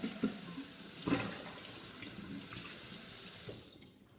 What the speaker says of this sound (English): I will rinse with hot soapy water